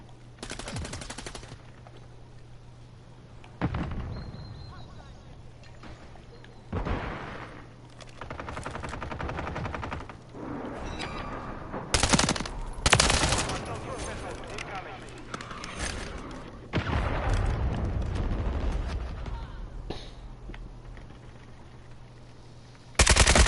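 Gunfire in the video game Call of Duty Warzone, with repeated loud bursts and single shots scattered through the clip, close and sharp over a steady low background hum, with occasional voices.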